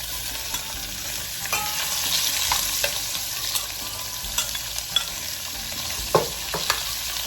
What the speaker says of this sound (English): I think the oil's hot enough to throw the rest of the pork in it,